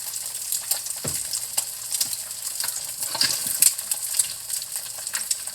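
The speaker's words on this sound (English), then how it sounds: "Then we're cooking some eggplant for breakfast." Eggplant frying in a pan for a traditional Filipino breakfast, a continuous bright close-up sizzle and crackle with a few light clinks of a utensil.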